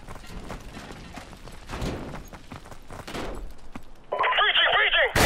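Gunfire and battle noise from the 2007 video game Call of Duty 4: Modern Warfare, a dense continuous mix of shots and clatter with shouted in-game voices, swelling into a louder burst near the end.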